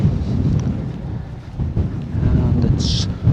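Strong wind buffets the microphone on an outdoor walk through the seaside resort town of Costa Teguise on a blustery day, a steady low roar with gusts swelling and easing throughout.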